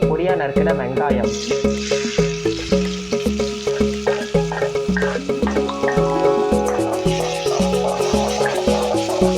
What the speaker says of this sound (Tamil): எண்ணெய் நல்லா சூடாயிடுச்சு. இப்போ பொடியாக நறுக்கிற வெங்காயம்,